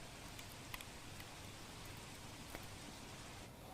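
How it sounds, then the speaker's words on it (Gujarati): Rain pours steadily over a waterlogged stretch of the Palanpur–Ambaji highway in Gujarat during the monsoon, a dense, even hiss with a few sharper drops and splashes, with no voices. "વહેલી સવારથી જ બનાસકાંઠાના અનેક વિસ્તારોની અંદર વરસાદ છે તે વરસી રહ્યો છે।"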